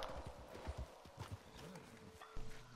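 Horse hooves clip-clop in an irregular rhythm, faint and somewhat distant, over a low background hum.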